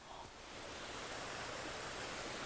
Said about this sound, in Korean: 여기는 물소리가 들려요 또